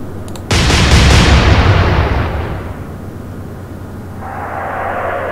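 A warship's guns fire high-explosive shells in the Atlantic Fleet naval game: one loud, heavy boom that rolls off into a long rumbling decay, followed by a faint steady tone.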